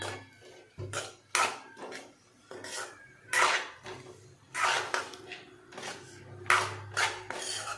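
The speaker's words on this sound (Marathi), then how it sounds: "मी इथं मटकी बटाटा घेतलाय, आता तो टाकून मिक्स करून घेऊ।" Spoon scraping and clanking in a pan as matki sprouts and potato are mixed into fried spices, a series of bright metallic knocks and scrapes with brief pauses between strokes, fairly close.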